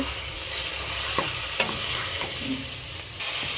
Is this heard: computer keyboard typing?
no